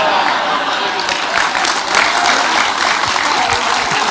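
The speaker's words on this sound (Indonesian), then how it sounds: "Kok sampean kok tepuk-tepuk," Applause from a lecture audience at a religious gathering, a dense steady wash of clapping lasting throughout, fairly loud and close with no voices standing out above it.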